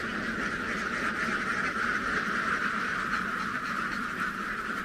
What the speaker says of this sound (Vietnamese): Cô chú ở đây cũng nuôi vịt rất là nhiều luôn.